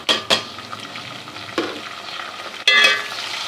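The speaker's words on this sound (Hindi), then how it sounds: "तो अब हम इसमें 2 खाने के चम्मच जो है लहसुन अदरक का पेस्ट डाल देते हैं" Garlic ginger paste frying and being stirred in a hot pan, steady sizzle with several sharp scraping stir strokes, close and clear, no voices.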